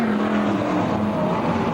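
Modified race cars roar around Borderline Speedway in Mt Gambier in 1996: a dense, steady, full-throttle engine drone with whining tonal lines, loud and continuous and with no pause.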